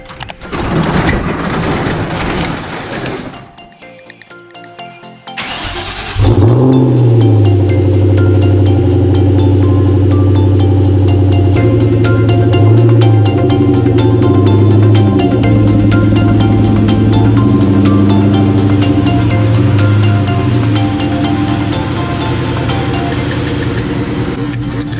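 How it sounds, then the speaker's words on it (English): A Ford Mustang Cobra engine turns over on a cold morning start, catching into a loud, steady idle with rising revs and a deep rumble that carries on alone for about twenty seconds. "Early morning, cold start."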